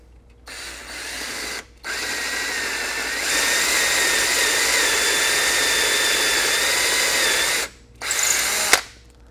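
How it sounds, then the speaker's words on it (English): A power drill drills holes for mounting a Wilton 79A bench vise, whirring loudly in several bursts, spinning up and holding a steady high whine, with brief pauses and a final clack. "make sure that we don't drill too far and go through the top"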